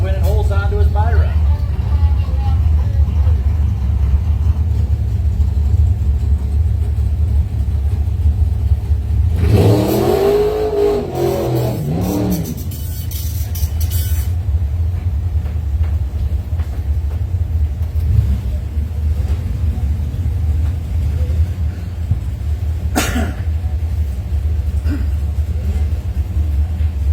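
Drag racing cars on a bracket-race strip at the 2021 God Bless America Race give a constant loud engine rumble, with a sharp rising rev burst near the middle, and voices are heard at times.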